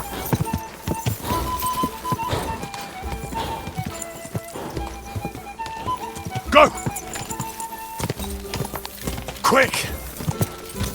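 Horse hooves clip-clop at a steady gallop in the video game Kingdom Come: Deliverance II, with a whinny and a voice shouting urging words over the rhythm.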